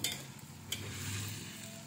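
Potato pieces frying in hot oil for sambal goreng kentang, a steady close sizzle with light stirring clatter and a brief utensil knock, no voices.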